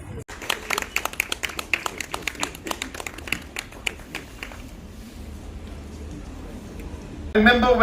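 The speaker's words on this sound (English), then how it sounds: "A round of applause, please." An audience at a Tri Hills ensemble event claps in a burst of sharp, distinct hand claps. The clapping thins and fades into a low murmur of the hall, and a voice begins near the end.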